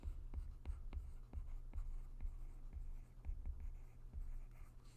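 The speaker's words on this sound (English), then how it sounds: "So let's write that down." A pen scratches and taps across paper while notes are handwritten, producing faint, close strokes in an uneven rhythm against a quiet room hum.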